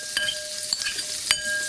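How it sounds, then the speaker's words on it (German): Chopped onions and garlic sizzle and crackle in a hot frying pan, a steady close hiss with a few sharp pops and scraping stirs, no voices. "Jetzt kommen die Zwiebelchen und Knoblauch schon mal in die Pfanne."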